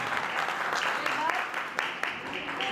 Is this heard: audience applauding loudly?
yes